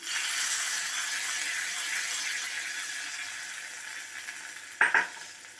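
Hot tempering poured into mashed turkey berries: soft sizzling and crackling fade gradually, followed near the end by a couple of brief clinks of metal against a vessel.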